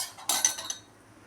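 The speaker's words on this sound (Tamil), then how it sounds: "ரச சாதத்தை மிக்ஸி ஜாரில் ட்ரான்ஸ்ஃபர் பண்ணியாச்சு" Cooked rasam rice scraped with a metal spoon into a steel mixer jar, a short cluster of three quick clinks and scrapes, close and moderately quiet.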